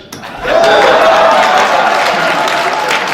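A burst of applause from a crowd at a youth conference, loud and sustained for a few seconds, with some cheering or voices mixed in.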